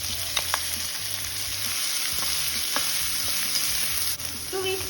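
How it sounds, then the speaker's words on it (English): Finely chopped large onions frying in oil with whole spices, a loud, close, continuous sizzle with occasional stirring scrapes and clinks, no talking. "So we've taken about 3 or 4 large sized onions here, finely chopped them, and we've added them to this oil with the spices."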